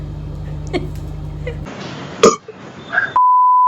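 A single short, loud burp stands out in the middle of a noisy indoor recording, against a steady low hum and other faint background sounds.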